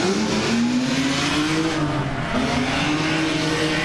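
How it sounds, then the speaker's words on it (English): Loud cars race around the course at Palm Beach International Raceway, a strong continuous engine drone with shifting revs passing close by and filling the whole moment. "A few loud cars here."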